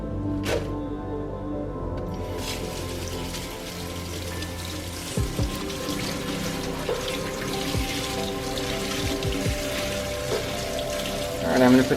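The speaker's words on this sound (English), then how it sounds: "Fill up a bowl of water and then put about a cup of vinegar in there." Running water steadily fills a bowl for a water and vinegar rinse used on harvested chile peppers, a constant near splashing stream with a few clinks and knocks.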